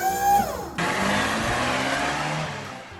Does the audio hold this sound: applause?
no